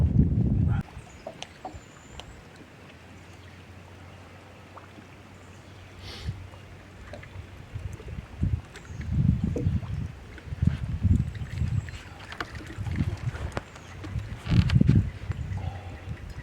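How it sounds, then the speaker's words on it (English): Wind gusts across a lake while anglers fish from a boat, with low rumbling buffets against the microphone that grow stronger and more frequent over time, over faint water and hull noise. "here comes the wind"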